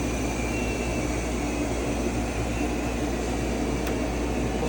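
A Myford MG12 cylindrical grinder, a 1997 machine with OD attachment, hums steadily with a broad whirring drone, constant and fairly loud with no voices.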